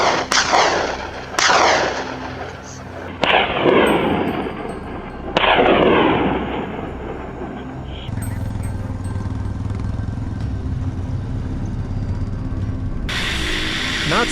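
Rifle gunshots ring out during a wild boar hunt in New South Wales farmland: four loud close cracks, each with a booming echo trailing off, followed by steady engine-like rumble.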